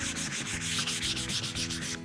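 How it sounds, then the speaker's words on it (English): Wood surface sanded gently along the grain by hand, a rhythmic series of soft, close rasping strokes about every quarter second, steady and alone with no voices. "we want to finish up by gently sanding over the surface in the direction of the grain"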